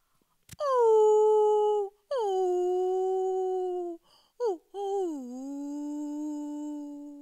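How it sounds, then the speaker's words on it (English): A Himalayan wolf howls alone in long, drawn-out wavering notes, several howls in succession with brief pauses, the last one falling and trailing off, clear and fairly close. "This is the howl of the Himalayan wolf"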